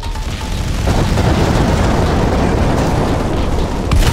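Airstrike explosion in the mobile shooter Tacticool, a loud, continuous rumbling blast that fills the whole stretch with dense roaring noise and a slight swell near the end.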